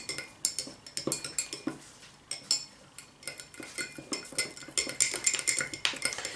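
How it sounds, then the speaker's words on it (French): A small paintbrush stirs blue-dyed liquid in a container, giving light, irregular clinks and taps against the sides in quick clusters, close and fairly quiet, with no talking. "je vais prendre un petit pinceau là. Et on va essayer de mélanger."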